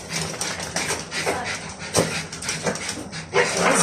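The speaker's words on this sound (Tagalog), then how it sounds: "tingnan niyo yung aso ko. Yung ginupitan ko." A freshly groomed pet dog pants in quick, repeated breaths close by, with brief soft whimpers mixed in and a light background hiss.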